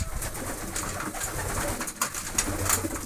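Pigeons come down to feed on scattered corn, with close, busy cooing and flutter over a steady outdoor background.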